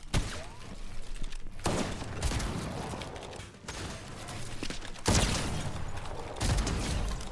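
Shotgun blasts in a first-person shooter match, loud bursts of gunfire with heavy broadband impacts in several groups, mixed with game effects and background noise.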